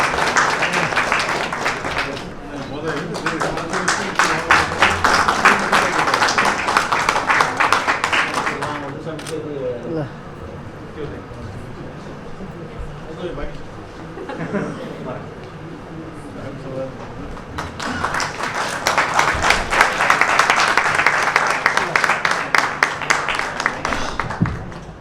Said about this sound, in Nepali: ताली बजाइदिनु हुन अनुरोध गर्दछु।